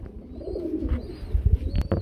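Caged racer pigeons, a pair offered for sale, coo in low, soft rolling calls that pulse several times over two seconds, with a couple of sharper clicks near the end and no voices.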